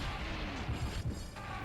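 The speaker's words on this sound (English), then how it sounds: "There's a lot of explosions here, and explosions still deal a good amount of damage" Explosions in the Serious Sam 3: BFE shooter, a few dull booms thumping through a dense, noisy game soundscape, fairly faint and overlapping one another.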